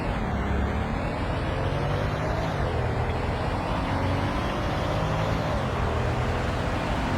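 A car accelerating in the Roblox game Greenville, a steady, close engine drone with rising and falling pitch under continuous road noise, no voices present.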